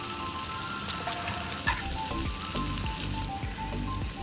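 Onion frying in a pan until reddish-brown for Kolhapuri-style egg bhurji, a steady crackling sizzle throughout with scattered pops and occasional spoon scrapes, close and fairly loud, no talking.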